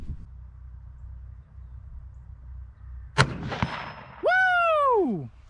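A single rifle shot at a target about 100 yards away on hunting land cracks out sharply and echoes briefly over low wind noise, followed moments later by a loud, long, rising-and-falling vocal whoop.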